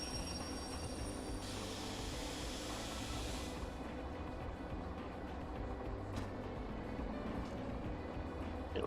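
Steady rumbling roll of a train braking in Derail Valley, with a constant low drone and a sustained high hiss of air brakes that cuts off partway, followed by ongoing wheel rumble.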